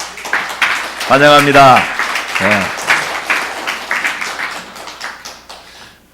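A church congregation claps in welcome for guests from Pakistan, a dense burst of applause that swells and then fades, with a voice speaking over it.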